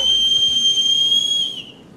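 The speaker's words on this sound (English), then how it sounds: "A piercing whistle echoed across the barnyard" A single piercing whistle holds a steady high tone across a barnyard for about a second and a half, loud and alone, then fades away.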